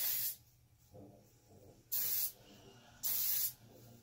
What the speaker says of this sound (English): I take Big Sexy hairspray, and I also use it on the roots